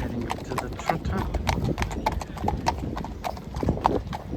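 Horses' hooves clip-clop on hard ground at an eventing horse trials inspection trot-up, a crisp, fairly close rhythm of overlapping hoofbeats with faint background voices.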